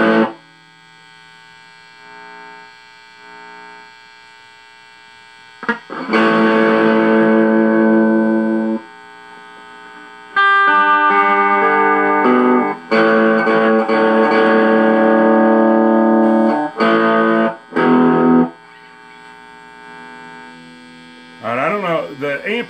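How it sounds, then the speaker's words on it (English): Distorted electric guitar, a Glarry GT506 through a Burning Fire pedal, with loud gritty chords and riffs in bursts separated by buzzing amp hum, ending with a bending squeal. "So now let's go to some dirty tones."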